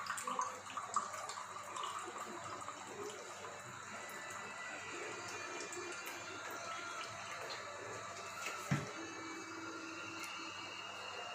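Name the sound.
cold water being poured in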